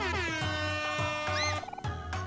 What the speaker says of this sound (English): I love how all the air horns make the meme noise.